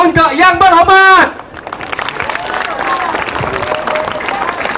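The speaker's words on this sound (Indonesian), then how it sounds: "Tepukan untuk yang berhormat." Crowd applause at a live outdoor concert in Kabong, Sarawak, spreads as dense, distant clapping and scattered cheers after a loud voice on a microphone stops abruptly.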